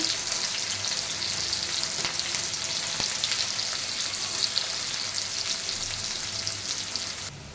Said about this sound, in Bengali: পেঁয়াজটাকে ভালো করে ভেজে নিয়ে